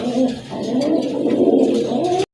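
A pair of pigeons kept for sale coo close by in one soft, continuous throaty burble lasting about two seconds, then stop abruptly.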